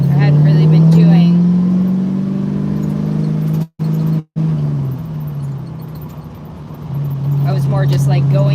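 A 1968 Mustang's engine drones steadily while driving, a low hum that dips and rises with speed, briefly cutting out twice, with a person talking over it.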